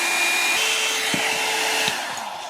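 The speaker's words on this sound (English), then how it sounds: "The melted hair dryer cannot be missing." A hair dryer blows with a steady, loud whooshing roar that holds constant for the whole moment.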